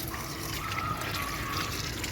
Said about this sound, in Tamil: இப்போ நம்ம தண்ணி விட போகிறோம்.